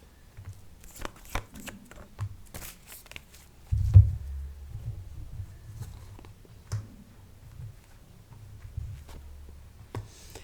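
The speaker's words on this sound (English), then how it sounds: "Let's just take random 3 cards for your work life and your love life as well." A deck of tarot cards is shuffled and cards are drawn close up, producing quick papery riffles and flicks in bursts, then a soft thump and a few scattered slides and taps, with no speech.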